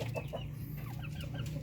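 Darag hens in a cage cluck softly in short, scattered calls over a steady low hum, faint and close, with no one talking.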